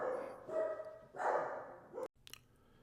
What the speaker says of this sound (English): I apologize if the dogs are barking and you hear them in the background.